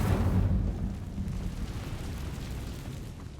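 Fire spell Incendio cast in the video game Hogwarts Legacy: a loud whooshing, rumbling blast that bursts at the start, then fades into a sustained crackling roar, heard alone.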